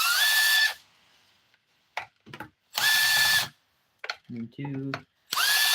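A power drill backs screws out of a chainsaw's recoil cover near the bar oil cap, so the primer can be reached. Three loud whirring bursts rise in pitch, with someone talking and soft clicks between them.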